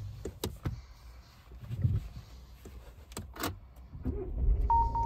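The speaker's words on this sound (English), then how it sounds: "Let's start this car." A 2019 Peugeot 508 BlueHDi GT Line with a 2.0-litre diesel engine is started: interior clicks and knocks, then a rising engine rumble near the end as a dashboard chime sounds, with no talking.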